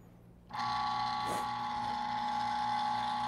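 A DF64 Gen2 coffee grinder switches on after a brief quiet moment and runs with a steady, close motor whine that stays even and loud through to the end.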